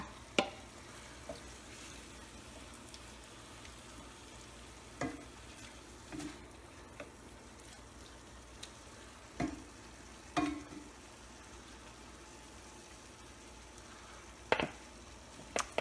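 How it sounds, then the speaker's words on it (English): Marinated shrimp sizzling in a hot pan, a faint continuous fry broken by several sharp scraping clatters as they are stirred and tossed. "Give them another toss here. I'm going to stir them in."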